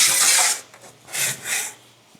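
A metal plate about 90 thou thick is cut for a fuel vent mount in a fabrication shop, with loud rasping strokes of the saw or file coming in uneven bursts and short pauses between them, up close.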